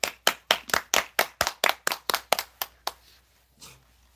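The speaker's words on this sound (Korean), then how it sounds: "자 박수 한번 쳐줘" About a dozen sharp, evenly spaced hand claps ring out close by, then slow and fade, followed by a few faint scattered sounds.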